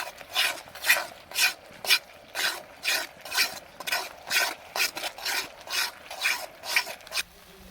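Spice paste being stir-fried in a pan for a soybean curry, a spatula scraping in steady rhythmic strokes, about a dozen rasping passes, close and clear with no talk.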